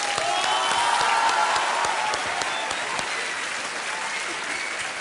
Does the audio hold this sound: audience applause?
yes